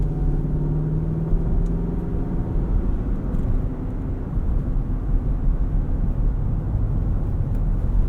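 A 2018 Infiniti QX80 4WD with a V8 drives and corners on the road, heard from inside the cabin as a steady, loud low engine and road rumble with a faint tonal whine and no talk.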